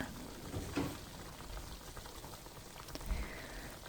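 Nikujaga, a Japanese meat and potato stew, simmers gently under a drop lid, giving a faint, steady bubbling with a few soft pops.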